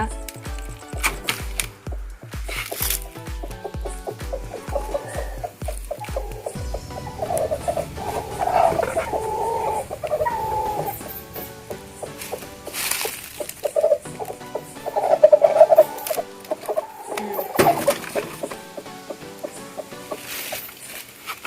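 A hen clucks and fusses in short bursts, with some rustling and scraping between the calls, fairly close and moderately loud.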